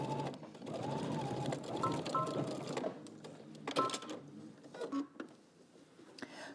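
A sewing machine stitches the side seam of a skirt, its motor running in steady bursts that stop and restart, with brief clicks and mechanical taps between runs.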